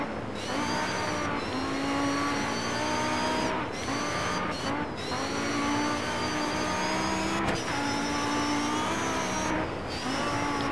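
Rally car engine in DIRT 3 racing off-road, loud and sustained at high revs with brief drops at gear shifts, accelerating hard with no talk over it.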